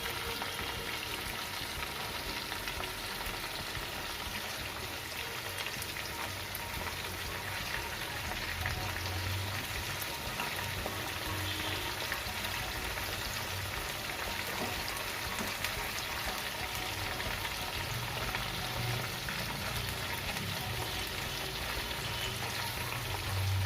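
Chicken popcorn pieces frying in oil over a medium-high flame, a dense continuous sizzle and crackle, steady and close, with no voices.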